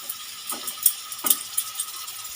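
For a hilsa curry, ground spice paste fries in a pan with a faint, soft sizzle, broken by a few light spatula scrapes and clicks, and no voices.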